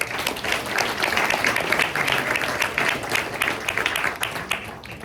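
Audience applause at a sports press luncheon, sustained clapping from a crowd for about five seconds, steady and fairly loud with a few individual claps standing out.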